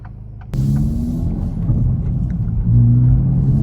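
A modified 2024 Acura Integra Type S making 400 wheel horsepower cruises on a road, heard from inside as a steady low engine rumble and road drone that jumps up sharply after a short quiet lead-in and swells again near the end.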